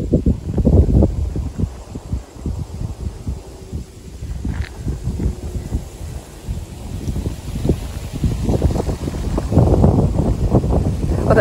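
Wind gusts across an open ridgeline on the Appalachian Trail, buffeting the microphone in loud irregular bursts that ease briefly in the middle before picking up again.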